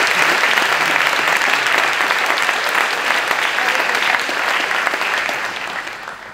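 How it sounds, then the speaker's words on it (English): A school graduation audience claps loudly and steadily in a full, even burst of applause that fades a little toward the end, with no talking over it. "And you're allowed to clap."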